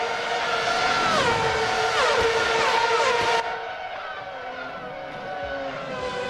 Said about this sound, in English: As all the cars pile out and down the straight towards Parabolica they go.